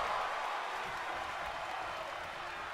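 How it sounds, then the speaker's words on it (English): Crowd at a women's wrestling show in Kyoto cheers and applauds, a steady wash of clapping and voices that stays even, with no clear separate claps standing out. "It definitely sounds like this Kyoto crowd behind the Warrior Princess."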